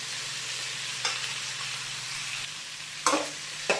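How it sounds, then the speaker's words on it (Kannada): Garlic, green chillies and ginger fry in hot oil with a steady close sizzle, broken by a few scraping stirs of a spoon in the pan. "ಮತ್ತು ಹಸಿಮೆಣಸಿನಕಾಯಿ, ಶುಂಠಿ, ಇದನ್ನು ಕೂಡ ನಾನು ಫ್ರೈ ಮಾಡ್ಕೊಳ್ತೀನಿ"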